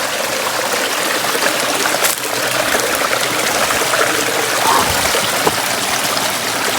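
Steady rushing and gurgling of a forest river stream on the Sharavathi in the Malnad region, continuous and fairly loud, with no voices.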